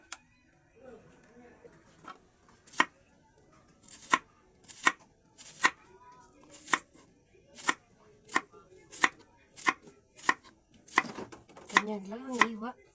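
A knife chops ingredients for ginataang bilo-bilo on a cutting board, sounding as a steady run of sharp, close taps in an uneven rhythm that quickens toward the end, with quiet kitchen sounds between strokes.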